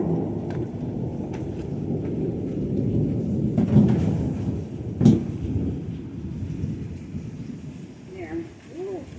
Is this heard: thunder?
yes